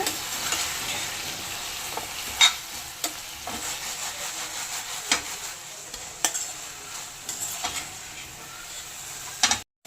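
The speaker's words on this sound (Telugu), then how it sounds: "చికెన్ మొత్తం వేసేసుకోవాలి. ఇది బాగా మెల్ట్ చేసుకోవాలన్నమాట. బాగా మిక్స్ అయిపోవాలి." Chicken pieces for chilli chicken sizzle and fry steadily in a pan while being stirred, with occasional sharp scrapes and clinks of the spoon against the pan, close up and with no talking.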